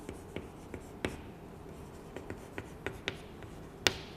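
A hand writes out an example, giving faint, close scratchy pen strokes in an irregular rhythm, with a few sharper taps among them, over quiet background.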